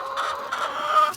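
Chickens at a poultry hatchery farm cluck and murmur together in a dense, continuous flock chatter, moderately loud with no talking.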